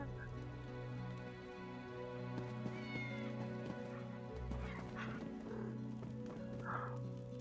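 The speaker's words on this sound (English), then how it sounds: "Kitties!" Several cats meow in a small enclosed spot during the New Life Festival in Elder Scrolls Online, a few short mews scattered over a soft humming game ambience.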